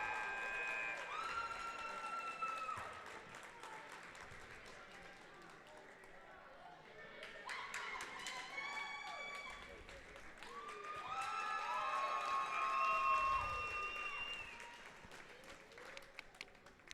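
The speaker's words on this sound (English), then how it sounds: "Somebody brought a cheering section, didn't they?" Spectators at a wrestling tri-meet cheer and applaud from the stands, a rolling spread of claps and shouts that swells and fades several times, with voices calling over it.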